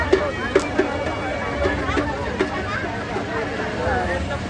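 Dense crowd babble fills a busy village temple fair, with many overlapping voices and a few sharp knocks and thumps rising through the steady chatter.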